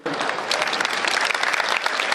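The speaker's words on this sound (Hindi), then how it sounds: "ऐसे काम नहीं चलेगा, तालियां कमजोर हैं आपकी" A live audience claps steadily in dense, continuous applause at a comedic poetry recital for Independence Day, loud and sustained throughout.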